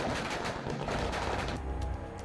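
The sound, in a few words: fireworks and firecrackers bursting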